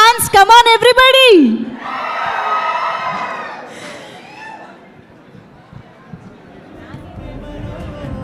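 A crowd at a film success celebration event roars and cheers to welcome actor Nani; a brief voice comes first, then a loud, sustained crowd cheer that settles into a murmur.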